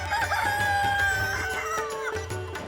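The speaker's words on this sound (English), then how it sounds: "So there's a lot of roosters running around." A rooster in Kuala Lumpur, Malaysia crows loudly and close by, its drawn-out call rising and falling over a low steady hum.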